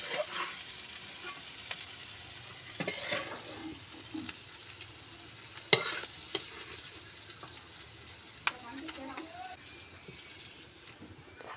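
Onion, garlic and shrimp frying in a pan make a low, continuous sizzle with scattered stirring clicks and scrapes, quiet and fairly close, with no speech.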